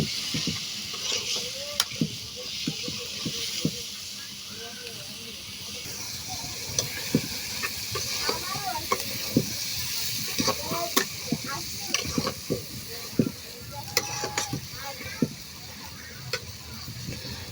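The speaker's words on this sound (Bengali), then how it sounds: "এখন লতিটা ভালো করে কষিয়ে নেব।" Taro stolons (kochur loti) are stir-fried on a clay stove, with a continuous hissing sizzle, steady scraping of a spoon and scattered clicks and taps nearby, and faint voices in the background.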